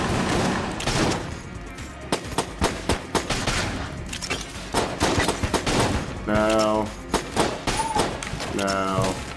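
Shots from a revolver in the Enter the Gungeon game, fired as a steady run of sharp, close, loud pops. They mix with other game effects and spoken commentary.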